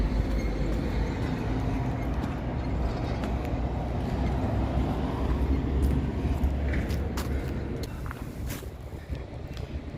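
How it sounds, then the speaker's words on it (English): A steady, heavy rumble of a Canadian National freight train rolling past for the whole stretch in Vancouver, with clanking and rattling from the cars, no voices. "the Canadian National Freight Train line, which runs 24 hours a day"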